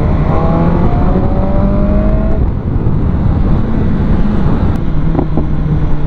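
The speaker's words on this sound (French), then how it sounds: "quand tu rétrogrades au shifter, wow, la détonation que ça fait, c'est dingue" Loud engine of a 2019 BMW S1000R motorcycle roaring steadily with rising revs, buffeted by heavy wind noise, a few sharp exhaust pops near the end.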